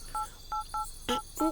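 Telephone keypad dialing tones sound in a quick series of short, clear beeps, three single tones followed by two more, with no talk over them.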